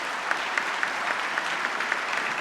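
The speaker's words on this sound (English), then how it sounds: "Give them all a round of applause, folks." An audience at an annual business awards dinner applauds with steady, sustained clapping, a close, even wash of many hands with no voices over it.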